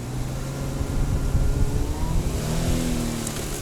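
A four-wheel-drive vehicle stuck off-road on a ranch trip, its engine revving steadily and loudly with droning harmonics rising toward the end, no voices over it.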